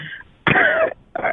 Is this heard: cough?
yes